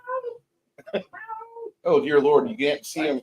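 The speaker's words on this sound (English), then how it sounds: "Is that your cat? That's a cat." A black cat meows several times, drawn-out plaintive cries close to the microphone, interleaved with a person speaking over and between the calls.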